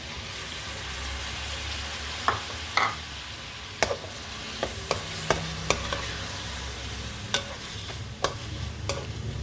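Tomatoes fry for bhindi chicken under a steady, close sizzle, punctuated by irregular sharp scrapes and clicks of a spoon stirring against the pan.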